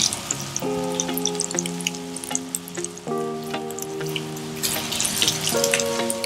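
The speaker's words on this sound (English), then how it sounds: "A lot of people don't like frying their fish." Crackling sizzle of fish frying in oil runs throughout beneath sustained background music, with occasional sharper pops.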